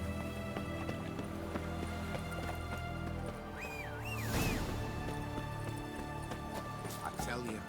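Horse hooves clip-clopping in The Witcher 3, a steady run of hoofbeats under continuous game music and a voice, with a brief whinny-like rise midway.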